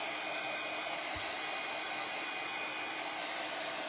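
A hair dryer blows steadily on a painted wooden board, making a loud, close, constant whooshing drone across the whole stretch, with one soft low thump partway through and no talking.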